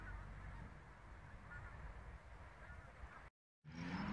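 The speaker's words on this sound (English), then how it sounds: "Lots and lots of geese flying over again today." Geese flying over a rural field give faint, distant honking over a steady outdoor rumble. The sound drops out briefly, then returns louder.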